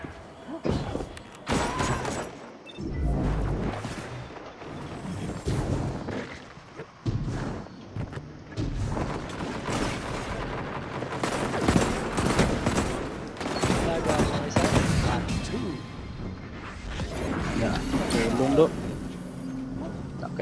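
Bursts of shotgun gunfire ring out in a Destiny 2 match, loud, repeated blasts in clusters amid heavy game noise, with a player talking over the action.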